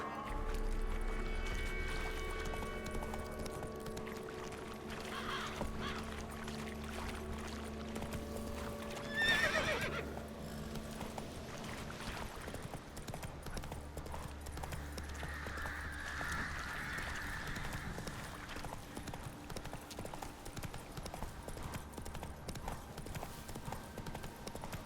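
Roach the horse gallops in The Witcher 3, hooves clip-clopping in a steady rhythm with a whinny partway through, set against ambient game sounds and a brief spoken line.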